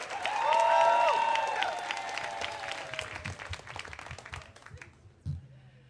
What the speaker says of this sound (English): Big round of applause for Margot Leitman.